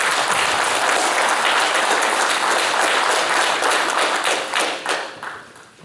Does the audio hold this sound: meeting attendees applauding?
yes